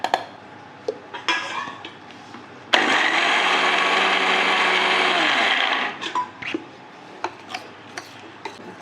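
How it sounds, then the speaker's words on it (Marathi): A kitchen mixer grinder roars for about three seconds, pulverizing crushed roasted peanuts into a fine powder, loud and close, with scattered clinks and handling taps before and after. "आपण पहिला शेंगदाण्याचा कूट बारीक करून घेऊ"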